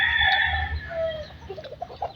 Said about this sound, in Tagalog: Salubong uli yung mga manok.